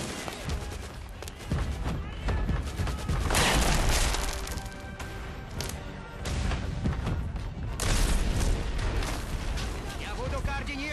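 Heavy naval gunfire from a cruiser in a war film booms in repeated loud blasts and rumbling crashes, layered with dense battle noise and shouting voices throughout.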